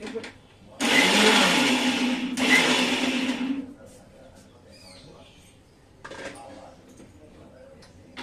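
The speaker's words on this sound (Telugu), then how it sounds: "మిక్సీ వేస్తున్నాను." Kitchen mixer grinder blending a gongura chutney with cumin and salt runs loud in two bursts of about three seconds in all, stops, then gives a short faint pulse later, with quiet background noise between.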